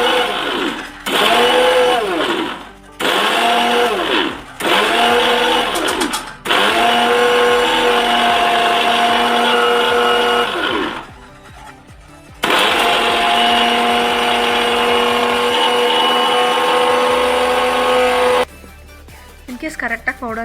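A mixer grinder grinds roasted spices into puliyogare powder in repeated whirring bursts, switched on and off several times with short pauses between, loud and close.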